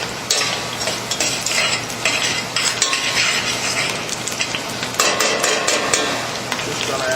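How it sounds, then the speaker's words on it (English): Mushrooms sautéing in a pan of chicken chasseur sauce are stirred continuously, with a steady sizzle under repeated scraping and clinking of a utensil against the pan, loud and close. "we're going to add the mushrooms next. And again, we keep stirring"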